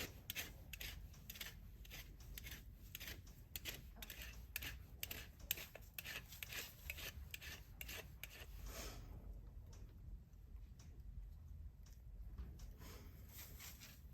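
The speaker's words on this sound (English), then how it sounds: "just take it down until it's reasonably flat" A rasp files a goat's hoof flat in steady, rapid scraping strokes, close and even in loudness, continuing for the whole stretch with only a faint background hiss and no talk.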